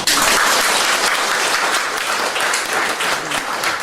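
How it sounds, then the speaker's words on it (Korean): A lecture audience at a university talk by a Buddhist monk gives a loud, close burst of applause that stays dense and sustained from start to finish. "박수 한번 주세요."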